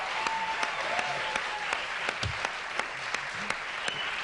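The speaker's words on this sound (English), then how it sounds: "We have the home of cheap applause." A late-night TV studio audience on Late Night with David Letterman in 1983 breaks into applause, a dense run of clapping heard alone and fairly distant.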